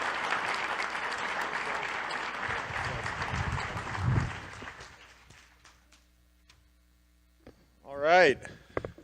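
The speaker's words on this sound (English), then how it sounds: "please give a round of applause, though, to the panel" An audience applauds a panel with dense, sustained clapping that fades out over several seconds, followed by a brief voice.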